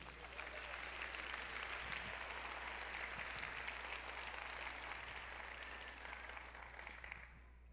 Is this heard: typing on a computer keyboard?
no